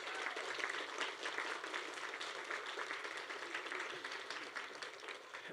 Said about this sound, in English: So let's give our awardees a big round of applause.